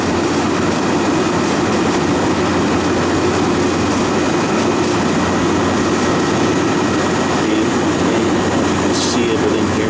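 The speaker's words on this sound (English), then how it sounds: "See how you hear the compressor complaining." A refrigeration compressor with a bad valve plate and a restricted drier filter labours with a steady, loud, unbroken rough drone and hum that holds for the whole stretch, close by.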